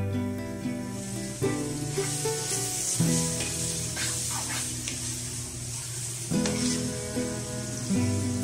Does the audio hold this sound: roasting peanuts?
yes